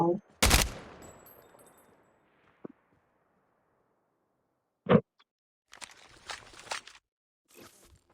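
Sharp bursts of video game gunfire in Call of Duty ring out, a loud opening shot, then a lone crack and a rapid volley of shots separated by silent gaps.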